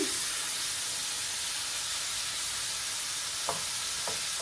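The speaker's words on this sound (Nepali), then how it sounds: "यसलाई रातो हुने गरी भुट्नुपर्छ। केही पनि मसलाहरू नराखिकन।" Mutton dry-fries without spices in a large wok, giving a loud, continuous sizzle and hiss up close, broken by a couple of light scraping stirs near the end, with no voices.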